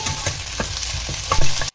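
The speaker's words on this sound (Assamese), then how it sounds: "এতিয়া অলপ লৰাই দিম" Pork curry is stirred in a pan, a close sizzling hiss broken by a few quick spoon scrapes and knocks against the metal, over in under two seconds with no talk.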